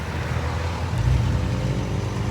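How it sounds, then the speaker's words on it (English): A car and a motorbike pass on a town street in Gladstone, Queensland, heard as a steady close rumble of engine and road noise that swells slightly midway, with no talk. "Just wait here for this bike and this car to go by."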